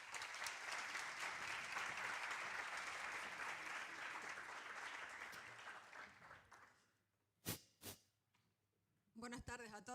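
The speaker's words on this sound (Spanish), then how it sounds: "Un fuerte aplauso." Audience applause at a talk on meteorology in civil protection emergencies, a loud, dense clapping that runs steadily for several seconds before fading out, followed by a few clicks and then a voice beginning to speak.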